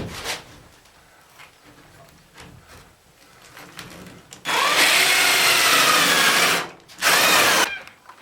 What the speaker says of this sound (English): So I'm going to go ahead and drill a hole right up through here.